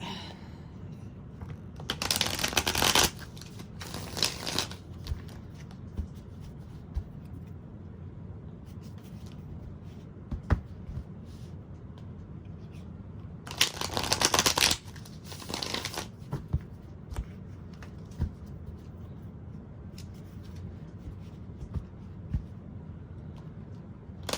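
Tarot cards shuffled close by in a few quick riffling bursts, two pairs spaced well apart, with soft handling noises between them.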